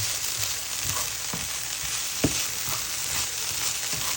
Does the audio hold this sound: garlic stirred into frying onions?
yes